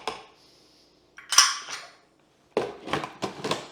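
Coconut flour is added for an almond coconut crust, with a short burst of clinking followed by a quick series of close scraping and tapping sounds from utensils and a container.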